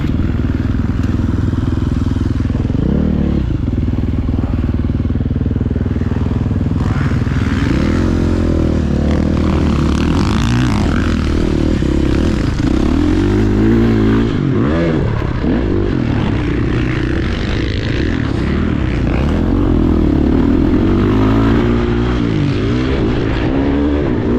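A 2022 KTM Factory Edition 450 SX-F dirt bike rides a public motocross track, its engine loud and close throughout, revving up and down through gears with brief throttle chops, and occasional scrapes and clatter.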